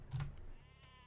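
A sheep in a real-time strategy video game gives one short, faint bleat, followed by a quiet background hum.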